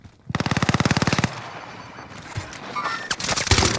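Rapid automatic bursts from a CW AK rifle in Warzone Rebirth, a loud rattling string of about twenty shots, then quieter game sounds and a few sharp single cracks near the end.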